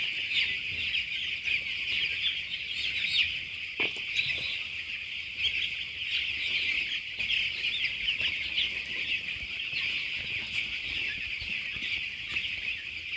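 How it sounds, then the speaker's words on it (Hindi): Broiler chicks on day seven in a poultry shed, a dense continuous chorus of high, shrill cheeping from many birds at once, steady and fairly close throughout, with no talking. "तब तक आप चूजे को देखें,"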